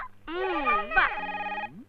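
A telephone rings indoors with a loud, bright, warbling electronic tone in one sustained burst that stops abruptly, close by.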